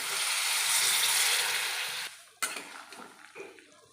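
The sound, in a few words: water being added to a pan of banana stem and potato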